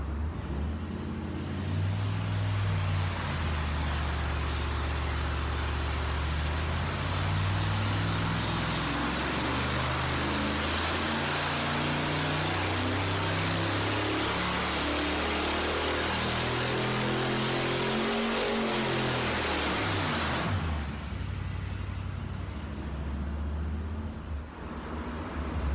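A Chevy Gen 7 big block 496 (8.1 liter) runs loud and continuous on a dyno, its deep roar rising and falling through revs for about twenty seconds before cutting off to quieter rumble.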